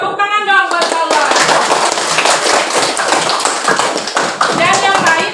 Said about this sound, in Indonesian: Tepuk tangan dong buat Allah.